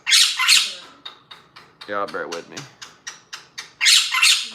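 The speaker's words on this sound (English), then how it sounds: "There goes the bird getting ready to be loud" A pet bird shrieks loudly indoors in two harsh bursts at the start and two more at the end, while someone talks in between.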